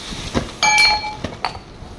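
Glasses from a boxed dinner set clinking together, several sharp bright chinks spread over two seconds, close and alone with a short ringing tone after the loudest knock.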